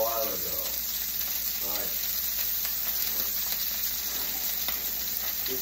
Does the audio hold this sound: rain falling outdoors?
no